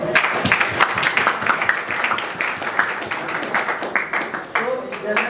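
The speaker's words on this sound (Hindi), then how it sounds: "एक बार अपने लिए तालियां बजा लीजिए।" An audience claps for itself at a student gathering: dense, uneven applause at close range, with voices mixed in.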